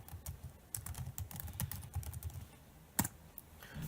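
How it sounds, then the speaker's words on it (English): Quick bursts of keystrokes on a computer keyboard as a web address is typed into a browser, close and fairly quiet, with a short pause and one sharper key strike near the end and no talk. "On the browser type, I'm going to type in the URL for the LTSS Maryland."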